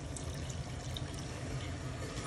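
Tamarind water poured into a pot of bhendi gosht, a steady close wash of liquid noise running throughout without pause or talk.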